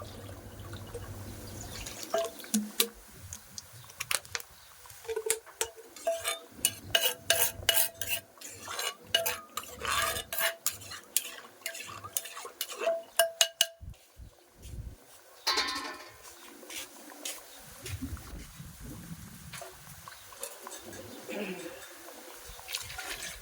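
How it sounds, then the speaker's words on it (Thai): A stone mortar is rinsed in a kitchen with splashing water and clinks, scrapes and knocks of stone and utensils coming in uneven bursts, some sharp and close, while voices talk in the background. "แล้วเราก็จะล้างคกไปด้วยนะคะ"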